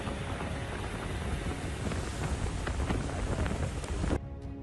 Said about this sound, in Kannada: ಬಸವನಕಟ್ಟಿ ಸೇರಿದಂತೆ ಹಲವು ಕಡೆ ಧಾರಾಕಾರ ಮಳೆಯಾಗಿದೆ